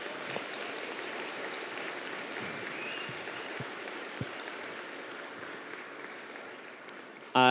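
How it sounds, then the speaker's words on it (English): A crowd at a bookstore author event claps in thanks, a steady, moderately distant patter of many hands that holds evenly with no talking until an abrupt cut at the end. "Let's applaud."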